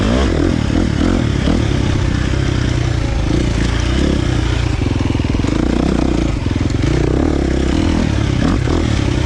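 A KTM 350 XC-F dirt bike with a Vortex ECU tune runs at close range, its loud continuous engine note pulsing and lugging through clutch work, with no talk.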